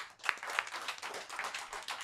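Audience applause at a live sports-themed comedy show, a short burst of scattered hand claps filling the room, fairly close and steady for about two seconds.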